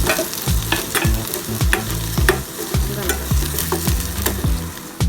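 Pasta in desi ghee in a pan on a low flame: a spoon scrapes and stirs in a quick, regular rhythm of strokes over a continuous soft sizzle, close and clear with no voices.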